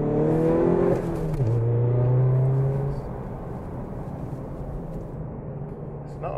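A VW Golf Mk7 GTD with a 2.0 TDI diesel engine accelerates on the road, its engine note rising in pitch, dropping at a gear change, climbing again, then settling into steady road and wind noise from inside the car.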